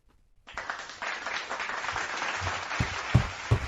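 Applause for a podcast guest: a short burst of clapping begins abruptly and holds steady at moderate loudness, with a few louder close claps near the end.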